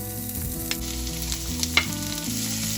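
Finely chopped garlic frying in hot oil, a steady close sizzle with a few light clicks of stirring, no voices.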